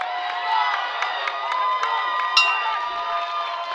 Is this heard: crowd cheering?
yes